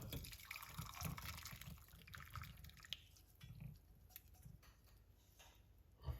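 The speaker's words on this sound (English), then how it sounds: "Pour it off like the Chef Ricardo" Liquid from a clove and garlic drink pours and trickles through a strainer in soft, uneven splashes and drips, quiet and close, with a few small clicks.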